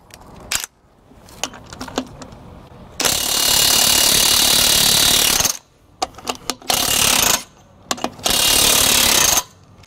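A Makita 18-volt DTW1001 cordless impact wrench hammers at nuts, trying to undo them, in three loud sustained bursts of rattling impacts, with short clicks and handling noises in the gaps between bursts.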